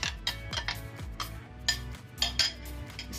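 Utensil scraping and clinking against a bowl while mayonnaise, chopped dill and garlic are stirred together, a steady run of close, light clatters and taps with no talk.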